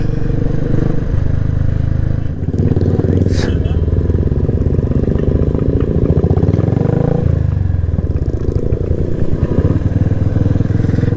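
A Royal Enfield motorcycle's exhaust thumps in a rapid, steady rhythm, loud and near, with voices talking faintly underneath.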